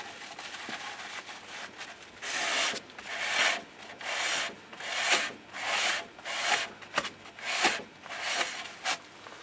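A Peugeot 307 brake disc surface is rubbed clean by hand in repeated rhythmic strokes, about a dozen scrubbing passes close by, with short pauses between them and no talking.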